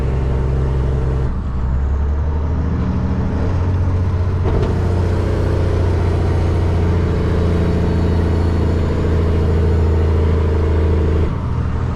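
A manual semi truck geared down to 7th on a steep downhill grade, its engine droning loud and steady throughout with a low, sustained rumble and a slight shift in tone partway through.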